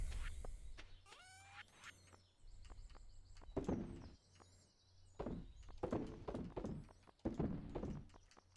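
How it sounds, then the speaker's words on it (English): In the video game Stardew Valley, a horse walks into a barn with a few soft hoof clops and thunks, set among scattered chiming game sound effects, without speech. "So we have a horse going in."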